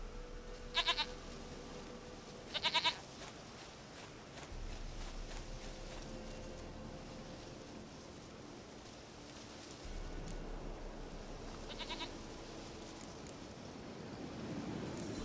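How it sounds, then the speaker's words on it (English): A goat bleats in The Witcher 3: Wild Hunt, several short wavering bleats in bursts over a quiet outdoor ambience with light wind and footsteps. "Goat of mine, dearest, sweetest goat."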